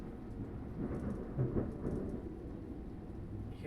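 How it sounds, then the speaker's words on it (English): Thunder rolls overhead from a storm, a low rumbling swell over steady rain hiss that peaks briefly then fades, with no voices. "The lightning literally flashed and then the thunder."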